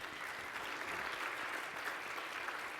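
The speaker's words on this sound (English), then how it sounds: "Give yourself a round of applause" An audience applauding, a soft, even patter of many hands heard at a distance and fairly quiet, with no voices standing out.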